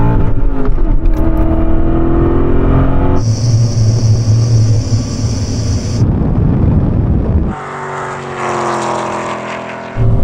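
A BMW E39 M5 and an Alpina B10 in a rolling drag race from 30 mph in second gear, engines roaring loud and steady, with a gear change dropping the pitch before the revs climb again and wind buffeting the microphone.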